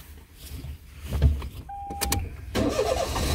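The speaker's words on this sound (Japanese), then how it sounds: "これちょっと一回エンジンつけてみましょうか。" A Daihatsu Move L175S kei car under repair for a faulty blower motor cranks and starts, with a brief mechanical whir, clicks and then a steady idling engine close by.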